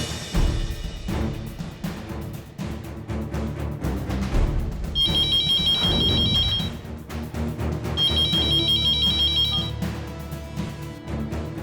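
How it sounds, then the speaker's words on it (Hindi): A phone ringtone chimes in two short bursts of bright, repeated electronic tones over a steady bed of background music. "लीजा भाभी, आपका फोन क्यों नहीं लग रहा है?"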